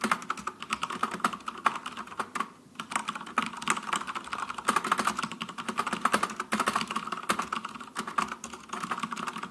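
Random typing on a Cooler Master MasterKeys Pro L keyboard with Cherry MX Brown switches, a dense continuous patter of soft, close keystrokes with one brief pause, no voices.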